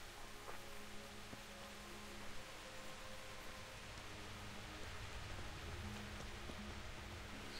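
Steady rain in the medieval open-world game Kingdom Come: Deliverance, a continuous even hiss of falling water filling the scene at a constant moderate level with no speech.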